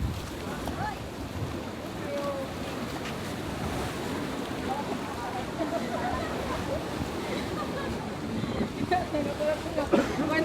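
Choppy sea at Limasawa island, with continuous waves churning and washing under gusty wind buffeting the microphone. A voice is heard over the steady rough water.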